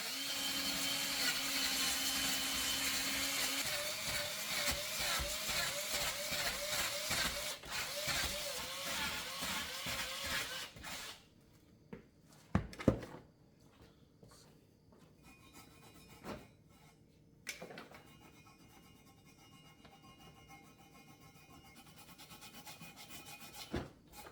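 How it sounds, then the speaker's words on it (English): Scrubbing of a reused exhaust manifold from a 2.5L Jeep TJ, a steady close rasping rub for about ten seconds, then quieter scattered scraping with a few sharp knocks. "we're going to go ahead and clean this manifold up"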